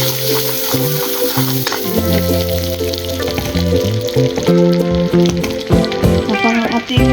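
Butter sizzles as it melts in a frying pan, a steady crackling fry heard up close while melodic background music plays over it, with no talking.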